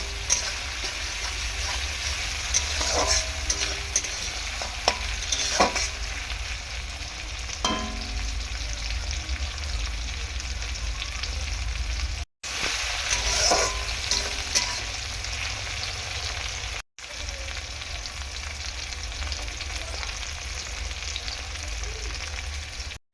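Tomato and onion fry in oil in a pan for a katla fish and potato curry, a continuous close sizzle with occasional spatula scrapes and taps, broken by brief cuts.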